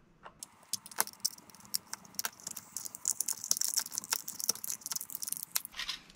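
A hidden bolt is unscrewed from beneath a sticker on a laptop hard drive, with small metallic clicks, ticks and rattles in close, quiet bursts.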